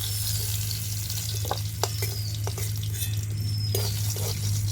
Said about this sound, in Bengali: কপিগুলো ভেজে নেব